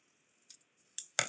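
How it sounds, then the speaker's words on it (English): Scissors snip paper straight while trimming a gift bag, a few faint ticks followed by two crisp, close cuts near the end, with no talking. "I'm going to cut that straight because that will bother me"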